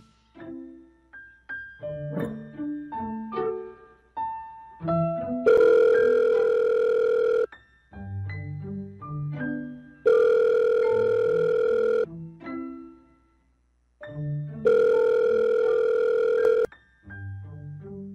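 Mobile phone call signal heard up close: a busy run of short electronic melody notes, then three long steady ringback-style tones of about two seconds each, alternating with the tune, with no voices.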